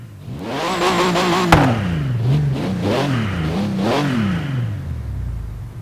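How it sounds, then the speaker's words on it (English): A Porsche engine revs hard several times, its pitch climbing and dropping in repeated waves, loud and close, with a sharp click partway through. "So that's what the Porsche sounds like."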